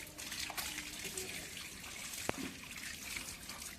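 Water trickles steadily as a container is filled, a faint continuous pour with a soft clink partway through.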